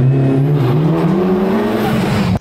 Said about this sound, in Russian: вот он тот самый двигатель от Evolution